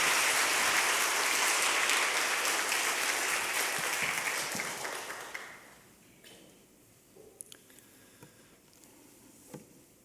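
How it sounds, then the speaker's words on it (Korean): A congregation at a Sunday church service claps warmly to greet a visiting pastor, strong, even applause for about five seconds that tapers off into near silence broken by a few scattered taps. "우리 목사님 나오실 때 한번 힘차게 사랑의 박수로 격려의 박수로 맞이하겠습니다."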